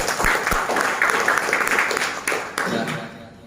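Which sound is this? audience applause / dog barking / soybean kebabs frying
audience applause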